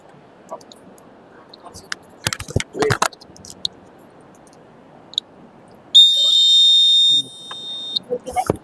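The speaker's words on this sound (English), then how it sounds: "If the ground will vibrate, this will sense and then beeps." A single steady electronic beep from an earthquake and flood warning alarm sounds for about a second, sharp and close, amid faint background murmur and scattered clicks at an agricultural fair.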